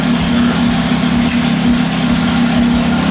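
Porsche Cayman S engine and exhaust idling steadily during a test run after a valve-control repair, a loud, close, continuous low rumble with a brief higher hiss midway.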